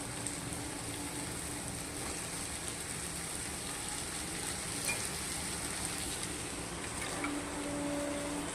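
Red spinach frying in a pan, a quiet, continuous sizzle with faint crackles and occasional stirring scrapes, steady and close, with no talking.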